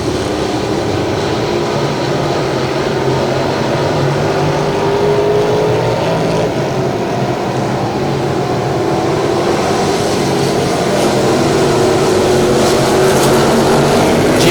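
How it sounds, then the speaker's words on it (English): Stock V8 race cars circle Lavonia Speedway in a loud, continuous engine roar that swells and drones as the pack passes, with a commentator barely audible under the noise. "But up front, Jimmy Johnson is setting sail right now in the 98."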